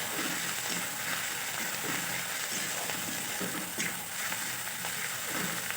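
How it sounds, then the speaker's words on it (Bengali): Ginger-garlic paste frying in a pan for a Bengali raw jackfruit kofta curry, a steady close sizzle with faint stirring scrapes and clicks running throughout, no voices. "আদা রসুনটা ভালোভাবে কষে নেব, না হলে আদা রসুনের গন্ধটা কিন্তু রয়ে যাবে।"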